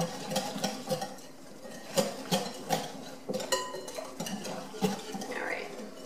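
Sticky sweet rib sauce is mixed in a bowl with a utensil, producing soft, irregular clinks and scrapes close by, while a voice talks quietly.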